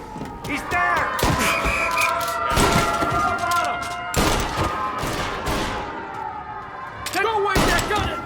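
Gunfire in the Mafia Definitive Edition video game: loud, sharp shots ring out in irregular bursts, several close reports spaced a second or two apart, with game music and voices underneath.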